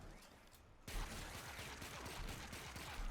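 Pistol fire in the video game Warframe, a quiet start then a run of rapid, sharp shots from about one second on, fairly close and steady without talking.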